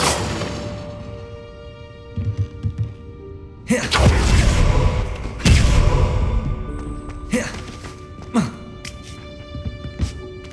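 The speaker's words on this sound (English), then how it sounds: "Expelliarmus!" A spell is cast in Hogwarts Legacy, with two loud magical whooshing bursts and thuds over steady game music and ambience, followed by fainter crackling flourishes.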